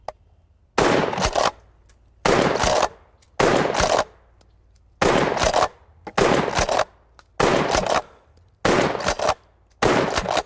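A Stoeger P3000 defense shotgun fires eight loud, close shots at a steady pace of roughly one per second, each a sharp blast with a short decay and clear gaps between them.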